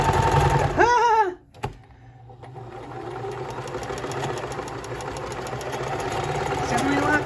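A freshly oiled and greased home sewing machine runs with a steady, quieter mechanical whir and rhythmic needle clatter, briefly stopping and restarting, with a short voice exclamation early on.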